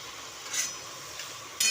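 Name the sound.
raw tomato chutney cooking in a pan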